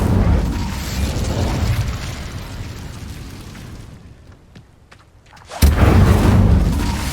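Incendio fire spell cast in Hogwarts Legacy on Xbox One: heavy rumbling fiery bursts that fade into quieter crackles, then a sudden loud blast surges back near the end.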